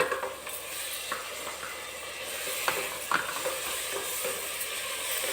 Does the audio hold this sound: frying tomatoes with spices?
yes